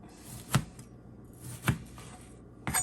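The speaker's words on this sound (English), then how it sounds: "I'm going to give it a cut into cubes" Knife chopping chicken pieces into cubes on a cutting board: three sharp, separate thuds spaced about a second apart, close and fairly quiet, with soft kitchen background between strikes.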